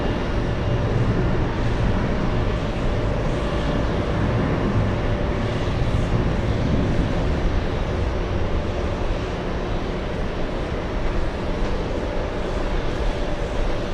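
Jet airliner in a Breast Cancer Research Foundation special livery taking off at JFK, a steady broadband engine roar that stays loud and even throughout with no voices.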